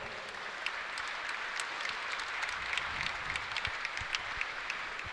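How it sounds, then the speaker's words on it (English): Applause from the audience at an indoor archery tournament, the NFAA Indoor Nationals, a steady wash of many hands clapping at moderate level that holds evenly from start to finish. "I give a big round of applause to Carson Sapp."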